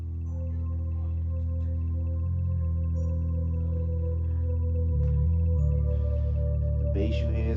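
Bass line from a hardware synthesizer in a home studio beat, loud sustained low notes that change pitch in stepped phrases with a faint melodic layer above, building slightly toward the end.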